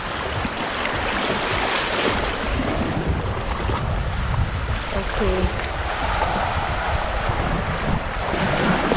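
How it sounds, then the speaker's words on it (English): Ocean surf washes continuously onto Las Salinas beach in Ibiza, a dense, steady roar with wind buffeting the microphone and a brief word spoken over it. "Did you hear the sound of the waves?"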